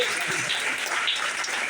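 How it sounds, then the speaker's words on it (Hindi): Loud, sustained applause from a large audience at a business plan meeting in Dombivali, Mumbai, steady dense clapping filling the whole moment without a break. "बता तो एक बार जोरदार ताली होनी चाहिए"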